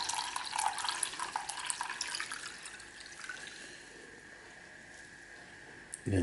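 Diluted nitric acid solution poured through a filter while recovering gold from gold-plated pins, a close trickling, splashing liquid sound that fades to a thin steady drip-like flow.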